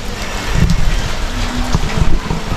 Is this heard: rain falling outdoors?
yes